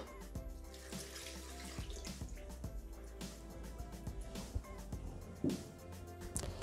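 Water pours into a Thermomix TM6 mixing bowl while making orange punch, a steady running, splashing stream with continuous rushing texture and a few clinks, moderately close.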